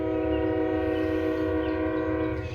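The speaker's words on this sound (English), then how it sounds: "You'll notice that, yep, there's the stupid trains." A passing train sounds its horn, a loud sustained multi-tone blast holding steady over a low rumble of rolling wheels, heard nearby without talk.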